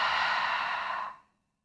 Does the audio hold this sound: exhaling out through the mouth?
yes